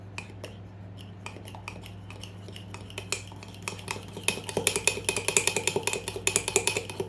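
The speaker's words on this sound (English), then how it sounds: "stir with a fork until it's lump free" A fork stirring a mixture in a large cup, rapid rhythmic clinks against the cup that start sparse and grow quicker and louder toward the end.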